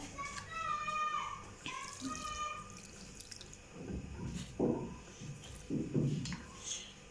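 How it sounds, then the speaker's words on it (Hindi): A pot full of water heats over a stove flame as it comes to a boil, giving soft bubbling and dripping sounds at close range. A voice and tonal sounds are heard early on. "I had put my pot full of water on the flame and now boil is coming"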